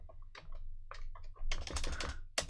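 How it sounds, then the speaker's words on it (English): Typing on a computer keyboard during a crossword, bursts of quick close key clicks in an uneven rhythm, with a louder flurry near the end. "I can't see what I'm typing."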